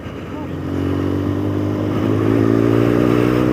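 An adventure motorcycle in enduro mode revs hard and spins its back wheel on a Wales road-book ride, a loud, close engine roar that builds and holds a steady high drone.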